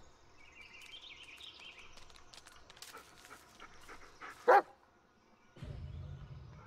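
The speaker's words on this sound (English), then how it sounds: "Listen to his barking and watch his body language." A dog barking in the Blair Witch horror video game, faint against quiet ambient game sound, with one brief sharp bark-like burst followed by a rougher sound near the end.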